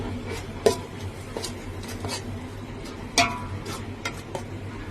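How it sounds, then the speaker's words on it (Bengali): Eggs get stirred in a pan with a utensil, giving scattered metallic clinks and scrapes, a few louder knocks spaced irregularly over a low steady hum. "তো আন্ডাগুলা ঢেলে একটু করে লেড়ে দিছি"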